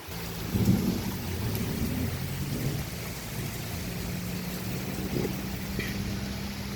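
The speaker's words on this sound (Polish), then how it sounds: "grzmi i błyska" Steady heavy rain with low, rumbling thunder rolling in the background at a beach sports field, a few louder swells; no talking.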